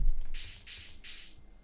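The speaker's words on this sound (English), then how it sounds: "We have a white noise." Three sustained bursts of white noise used as a hi-hat-like drum sample, each a bright hissing wash lasting about a third of a second, evenly spaced and heard alone from an electronic dance production.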